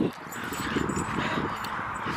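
A dog whimpers and gives short yips in a park, sounding fairly close and continuous over outdoor ambience.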